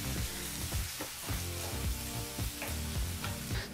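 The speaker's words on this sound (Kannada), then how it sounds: "ಫ್ಲೇಮ್ನಲ್ಲೇ ಈರುಳ್ಳಿನ 2 ನಿಮಿಷಗಳ ಕಾಲ ಚೆನ್ನಾಗಿ ಫ್ರೈ ಮಾಡ್ಕೋಬೇಕು ಎಣ್ಣೆಯಲ್ಲಿ." Onions frying in oil in a pan for a drumstick masala gravy, a dense close sizzle punctuated by regular stirring clatters of a spoon against the pan, no voices.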